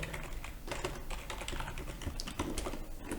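Fast, steady typing on a computer keyboard as an SQL query is entered, dense clicking keystrokes in quick succession, close and fairly quiet, no voices.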